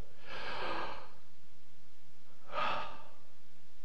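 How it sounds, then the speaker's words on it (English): Two deep breaths are taken by a preacher during a sermon, each a soft, airy rush of air with a pause between them, close and fairly quiet with no talking. "First of all, take a deep breath."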